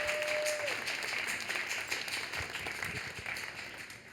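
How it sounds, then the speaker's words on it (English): A library audience in Boston applauds poet Crystal Valentine at a poetry event, a steady, dense wash of clapping that holds for the whole stretch, with a few cheers rising through it. "please give another round of applause to Crystal Valentine"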